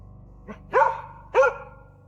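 Hunting dog barking in the woods, a short yip followed by two loud, clear barks spaced about half a second apart against a quiet background.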